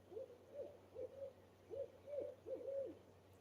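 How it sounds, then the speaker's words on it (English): An owl hoots outdoors at night, giving a series of short paired calls in a steady rhythm, moderately distant against quiet background hum. "That's my buddy, the owl,"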